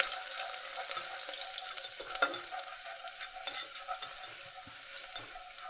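Four garlic cloves sizzle in a hot pan as they are stirred, a close, steady frying hiss broken by light taps and scrapes, with no talking.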